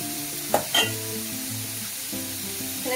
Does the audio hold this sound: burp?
no